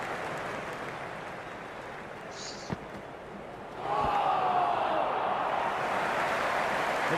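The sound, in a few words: stadium crowd buzz in the video game Cricket 26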